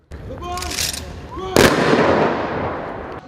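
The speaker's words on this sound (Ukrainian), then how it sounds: "Урочистими залпами салютували перемозі у Кременчуці." Ceremonial salute volleys fired for Victory Day celebrations in Kremenchuk: a string of firework bursts with whistling rises, then a loud boom around midway trailing into a long rumbling crackle, with crowd noise throughout.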